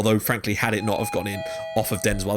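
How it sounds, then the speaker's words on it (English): A doorbell rings at home during a Football Manager 2015 session, its faint electronic tones sounding steadily beneath a man's continuous close speech. "that's the doorbell"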